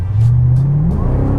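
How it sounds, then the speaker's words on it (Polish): A Chevrolet Corvette C4 engine blips its throttle once, loud and close, then rumbles back down to idle with no one talking. "wykorzystałem moment do tego, żeby e, zrobić taką przygazówkę"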